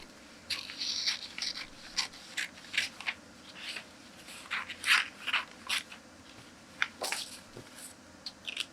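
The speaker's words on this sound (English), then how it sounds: "So I am going to take my scissors," Scissors cutting out a paper pattern during fashion design pattern making, heard as a close series of short, crisp snips and rustles in irregular bursts, with no talk.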